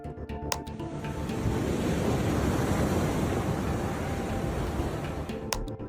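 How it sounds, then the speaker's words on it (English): Massive waves crashing on the northern sea, a swelling roar of surf that builds from the start and holds as a broad, rumbling wash, with scattered clicks at the edges and no voices. "Standing before the northern sea, massive waves crash"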